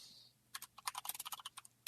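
Computer keyboard typing, a quick run of about fifteen crisp, close key clicks in an irregular rhythm, ending with one sharper tap, in a quiet room with no talking.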